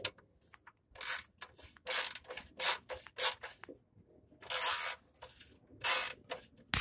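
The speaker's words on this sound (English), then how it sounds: "So we'll just take those four bolts out." A ratchet wrench backs out headlight bolts on a Chevrolet Tahoe, with loud, close bursts of rapid clicking in repeated strokes separated by short pauses, and no talking.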